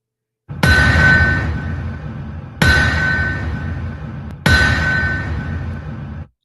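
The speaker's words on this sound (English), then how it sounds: "That is the sound of the anvil" Three heavy metallic strikes on an anvil, evenly spaced about two seconds apart, each a loud bright clang that rings on and slowly decays before the next blow.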